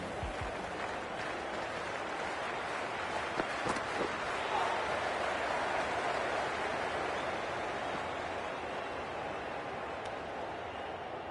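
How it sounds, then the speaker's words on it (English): A stadium crowd in the Cricket 24 video game keeps up a steady, broad wash of cheering and noise for an opening match, with a few sharp claps or hits standing out briefly. "The crowd is making plenty of noise for the opening game."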